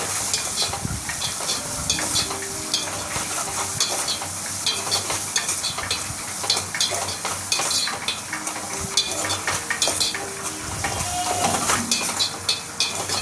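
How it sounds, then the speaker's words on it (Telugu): Onions sizzle steadily in a hot pan as salt is added and stirred in for a cabbage fry, the frying hiss continuous throughout with scraping stir strokes and no voices. "ఇప్పుడు మనం ఉప్పు కూడా వేసేసుకొని కలుపుకుందాం"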